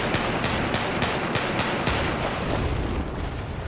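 A USMC weapon in BFHD PRO 2 fires on full auto, a loud, dense and unbroken stream of rapid shots that fills the whole stretch without pause.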